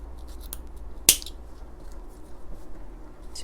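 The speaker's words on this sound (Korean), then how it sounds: "지퍼 끝트리는 잘라줍니다." Sewing scissors make a single sharp, close snip as they cut off the end of a zipper while wide two-tuck slacks are being made, with a quiet room hum around it.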